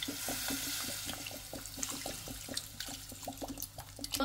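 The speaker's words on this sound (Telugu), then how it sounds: "ఈ కాళ్ళు ములిగే వరకు వాటర్ వేసుకుని" Water splashes and pours into a pot over mutton trotters, a close, steady gush that breaks into uneven sloshing bursts as the pot fills.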